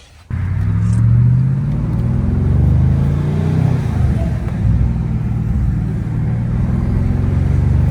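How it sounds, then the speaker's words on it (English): A BMW M550i fitted with an ARM Motorsports cold air intake revving, a loud, deep engine roar that bursts in abruptly after a short quiet start and then holds a rumbling, droning tone, with slight rises in pitch. "You definitely hear a lot of air being sucked in"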